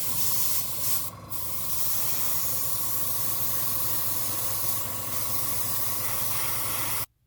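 An airbrush sprays an Insignia White base coat onto an AMT USS Enterprise B model kit, giving a steady close hiss that runs nearly unbroken for about seven seconds, with one brief dip early on, before cutting off abruptly.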